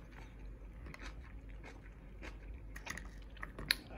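Someone chews crunchy Miyama brand kimchi bought at a Japanese market in Yokosuka, producing close, moist bites and crunches in an irregular rhythm, with a few sharper crunches near the end.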